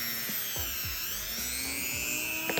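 Power polisher buffing a custom van emblem with green polishing compound, a steady high whine with shifting pitch and a few faint knocks and scrapes close by.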